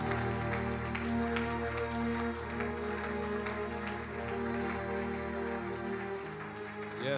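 A church congregation claps and cheers in a dense, continuous patter of applause, layered over sustained music.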